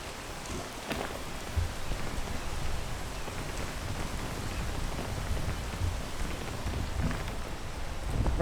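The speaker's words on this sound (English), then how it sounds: "I don't know why I'm doing this while it's raining." Rain falling steadily in the video game Peak, a dense, even hiss of drops with occasional louder patters, continuous and fairly close throughout.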